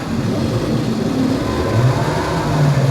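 A 2023 Toyota Corolla AWD accelerates hard in normal mode in bad weather, its engine droning and rising steadily in pitch as the wheels spin, loud and close with no talk.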